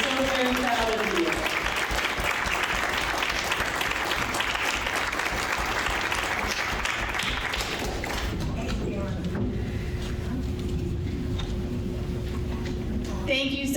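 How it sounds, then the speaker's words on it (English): Audience applause at an evening community meeting honoring women going through cancer, a dense steady roar of clapping that fills the room for about eight seconds before fading into quieter murmur and scattered claps. "a big round of applause, please"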